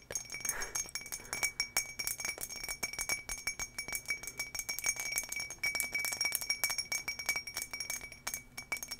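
Turquoise glass objects tapped repeatedly with quick, close, bright clinks and small rattles in a steady, busy rhythm throughout, with no talking.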